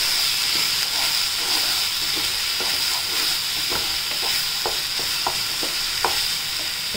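Ground spice paste sizzles and fries in a hot pan, a steady hiss broken by irregular crackles and pops, close and fairly loud with no voices.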